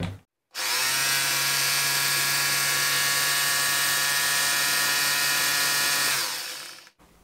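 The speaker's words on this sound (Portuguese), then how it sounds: "Deixa eu colocar na função de impacto, só para matar a curiosidade." A Deko DKRH20B50 rotary hammer, a budget model for bits up to 20 mm, runs in impact mode. After a brief pause it gives a loud, steady whine and hammering buzz for about six seconds, then winds down alone.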